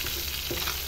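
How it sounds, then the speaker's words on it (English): Pomfret fish frying in hot oil, giving a steady, close crackling sizzle that holds without pause through the whole moment, with no voices over it. "So now you can take out the fishes from oil."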